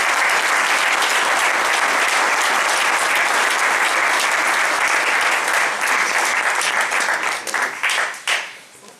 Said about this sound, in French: je vous invite néanmoins à lui dire merci beaucoup avec vos applaudissements collectifs